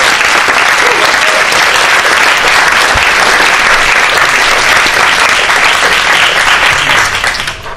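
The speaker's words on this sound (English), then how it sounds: "I would like to thank them all for fantastic work with big applause" Loud, dense audience applause in a new auditorium at an open architecture lecture, sustained crowd clapping throughout that eases slightly at the very end.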